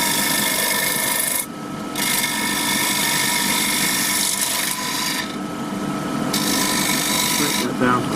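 Wood turning on a lathe for a table lamp base, the tool cutting off excess with a loud, continuous rasping scrape that briefly drops and resumes several times.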